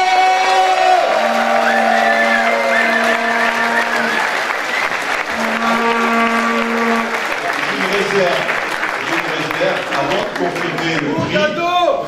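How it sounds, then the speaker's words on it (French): At a student orientation-week closing ceremony, a crowd applauds loudly and continuously, with whoops, cheers and voices rising through the thick, sustained clapping. "Donc bravo, on peut s'applaudir s'il vous plaît."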